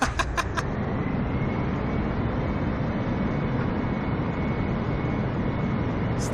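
Boeing 747 jet engines in Microsoft Flight Simulator roar steadily on the runway, a broad, even rumble with a high whine running through it, and a few sharp clicks at the start and end.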